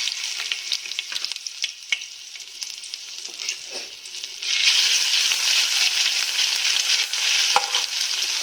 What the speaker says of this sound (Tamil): இஞ்சி பூண்டு நல்லா வதங்கிருச்சுங்க, பச்சை வாசனை போயிடுச்சு.